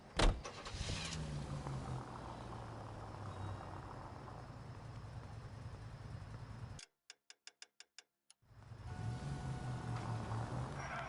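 A car in the video game L.A. Noire idles with a steady engine hum, then cuts to near silence broken by a short run of quick ticks before the engine drone and a power window return.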